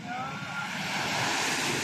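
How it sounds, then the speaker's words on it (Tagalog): Ocean waves rolling in at Mt. Samat make a steady, broad wash of surf, with some wind noise across the microphone throughout. "Ayan o. Alon."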